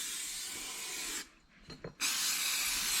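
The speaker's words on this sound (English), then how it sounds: "spray it down." Brake cleaner hisses from an aerosol can onto a car downpipe during a restoration, a steady close spray that cuts out briefly, leaves a few soft rubbing sounds, then resumes at full strength.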